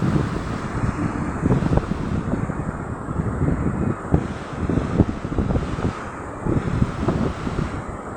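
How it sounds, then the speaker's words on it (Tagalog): Ocean waves surging onto a sandy beach, a steady broadband wash with repeated surges and breaking swells mixed with gusting wind noise on the microphone, no talking. "parang gustong lumapit na yung alon dito"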